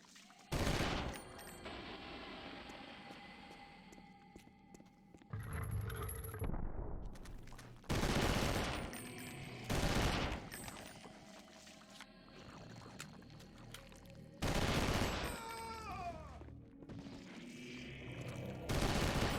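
Bursts of gunfire fired from the hip in Eternal Darkness come in several loud clusters of rapid shots, each lasting a second or so and separated by quieter game sounds.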